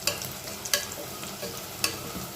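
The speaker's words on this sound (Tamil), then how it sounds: "இப்போ மிளகாயும் சேர்த்து வெங்காயத்தோடு நல்லா வதக்கிக்கலாம்." Steady sizzling of onions and chilies sautéing in a pan for beef fry, with a few sharp scraping stirs of a spoon punctuating the hiss; no voices.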